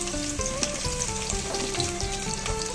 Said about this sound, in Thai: เอา หอมแดงนะครับกระเทียมนะครับใบมะกรูดแล้วก็พริกแห้ง มะเจียวนะครับ เอาลงมะเจียว